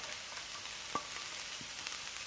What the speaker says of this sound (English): stir fry all together.